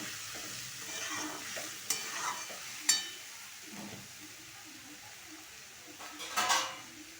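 Sliced onions with a pinch of salt frying and being stirred in a pan for besan, with soft continuous sizzling, occasional utensil scrapes and clinks against the pan, nearby and moderately quiet, no talking.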